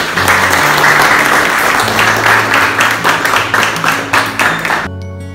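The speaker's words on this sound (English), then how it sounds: "Big round of applause." A big round of applause fills a farewell gathering for a chef, loud and dense clapping from a crowd that thins slightly toward the end, with music playing underneath.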